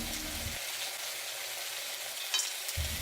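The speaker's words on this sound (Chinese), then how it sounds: "煎上色的鸡皮吃起来更香，大概煎了3到4分钟左右" Steady, close sizzle of chicken skin frying in a hot pan for soy sauce chicken, a continuous crackling hiss with a couple of faint utensil clicks near the end.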